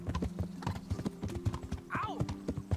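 Horse hooves clip-clop steadily and close in the medieval RPG Kingdom Come: Deliverance, with a brief whinny and voices over the ride.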